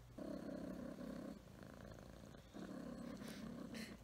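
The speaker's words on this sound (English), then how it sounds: "Listen to those purrs." A cat purrs steadily up close, a low rumbling drone that pauses briefly before resuming.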